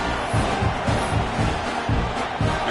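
A home crowd roars at a Michigan vs Texas A&M football game after a punt return touchdown. The cheering is a loud, steady wall of noise, with low thumps pulsing through it at a regular beat.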